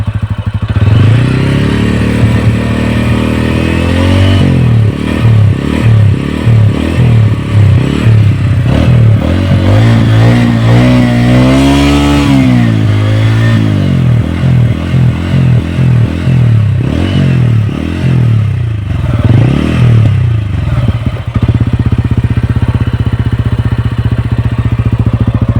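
A TVS Ronin motorcycle engine starts and idles with a steady close-up thrum, then revs up and down repeatedly in swelling surges before settling back to a low idle and cutting off near the end.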